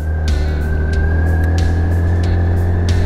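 A BMW K1600 GTL motorcycle pulls away in first gear. Its engine is a loud, close, continuous drone whose pitch climbs slowly as it accelerates, with no voices.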